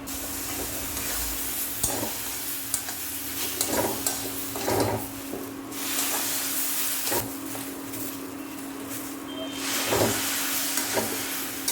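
Semolina stirred and dry-fried in a pan until crumbly, a steady soft hiss and sizzle with irregular scraping strokes of the spoon, close and moderately loud, no voices.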